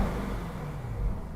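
A deep, steady exhaust drone from a cold 650 hp Lamborghini Urus V8 SUV with stock exhaust rumbles nearby, low and throaty, holding at an even level with no speech.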